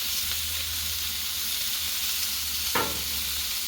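Onions and peppers sizzle on a Blackstone flat-top griddle, a steady frying hiss with a low hum beneath and one sharper scrape or stir near the end.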